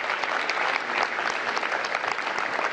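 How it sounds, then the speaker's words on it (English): Audience applause for a city mayor at a public event celebrating the modernized Martin Luther King Jr. Memorial Library, a dense, steady patter of many hands clapping, fairly near and continuous throughout. "Let's give our mayor a fantastic round of applause."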